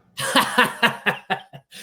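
A run of about six harsh, breathy coughs in quick succession, close to the microphone, tapering off near the end.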